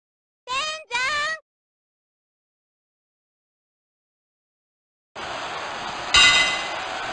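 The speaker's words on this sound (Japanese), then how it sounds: "沈黙の中にハイトーンの鐘の音が響き渡ってまいりました。" A bell rings in the King of Colosseum wrestling game before Hiroyoshi Tenzan vs Don Frye, giving one bright metallic strike over crowd noise. Earlier, two short tonal vocal bursts are followed by silence.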